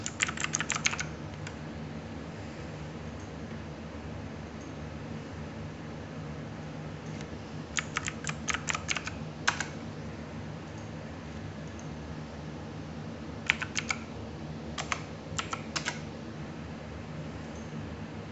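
Computer keyboard clattering as login credentials are entered, with short clusters of quick keystrokes separated by quiet pauses against a soft background hiss.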